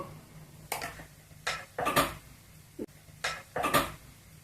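Brinjal rice (vangi bath) stirred in a pan: a spoon scrapes and clinks against the metal in several separate strokes, close and fairly quiet, with no talk.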